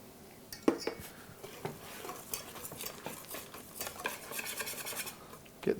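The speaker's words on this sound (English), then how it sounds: "Just start by giving it a light little mix with your whisk" A whisk scraping and tapping in a bowl as Guinness beer batter for fish and chips is lightly mixed, quiet and close, with irregular clinks and a busier stirring rhythm toward the end.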